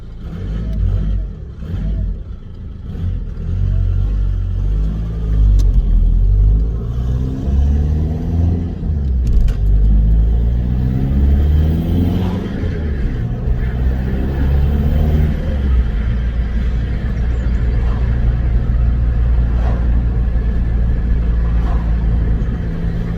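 A VW MK5 Golf 2.0 TDI GT TDI diesel on a warm-up drive, its engine droning loudly and steadily throughout with gear-change rises and falls in pitch, recorded from inside the car.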